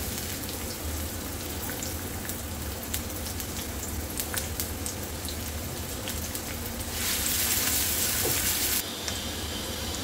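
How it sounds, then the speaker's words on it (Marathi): Onion frying in four spoons of hot oil, a steady crackling sizzle with scattered pops running throughout and swelling to a louder hiss near the end. "चार चमचे मी तेल घातलेलं आहे याच्यामध्ये. थोडंसं कांदा घातला."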